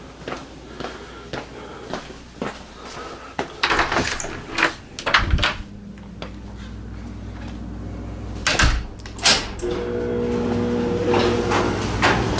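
A garage door at a home with a 1968 Camaro resto-mod is worked open: scattered clunks and rattles, then louder bangs and a rising mechanical rumble that keeps building to a steady drone near the end.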